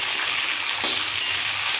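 Green chillies sizzle in hot oil with cumin and mustard seeds, a steady close hiss of frying with a slight swell near the middle and no voices.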